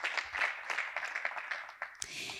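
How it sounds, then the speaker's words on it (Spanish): Audience at an architecture networking event in Málaga breaking into applause, a dense burst of clapping close by that fades within about two seconds before a sharp knock. "Fuerte aplauso también para él."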